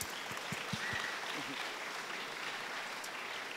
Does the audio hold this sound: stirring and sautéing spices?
no